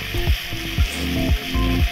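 Bean chop filling stirred and fried in a pan, a loud close sizzle broken by a regular rhythm of spatula strokes scraping the pan, about five sweeps in two seconds.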